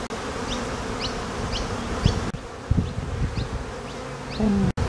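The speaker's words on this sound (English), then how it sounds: "there's a good amount of bees on there" Honeybees buzz around a hive frame during an update on a small captured swarm, a dense continuous drone close to the listener with occasional handling knocks and no talking.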